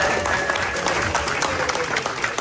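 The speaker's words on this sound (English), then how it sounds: "Can we get another round of applause for that?" An audience at the MFF 2022 midnight show claps in a loud, close, continuous round, with dense overlapping hand claps and faint crowd murmur throughout.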